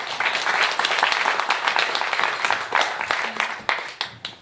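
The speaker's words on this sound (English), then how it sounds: "Please a warm applause for Natalie Kane and Tobias Ravel." A warm round of applause at an evening arts event, dense close clapping from an audience that holds steady and then thins out toward the end.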